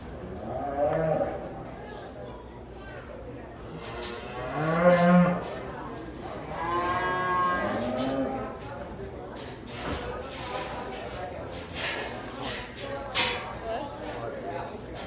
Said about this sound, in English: Now entering the ring, commercial cow-calf pairs.